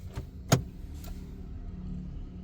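Automatic gear lever of a Honda Accord Maestro clicks into park with the engine off, a sharp mechanical clunk followed by a fainter click, set against a quiet car interior.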